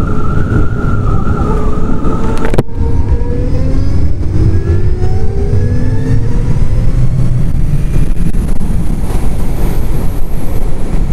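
A 2021 Zero DSR electric motorcycle ridden in Sport mode gives off a loud, rising electric motor whine that climbs steadily in pitch under heavy rushing wind noise, with no talking.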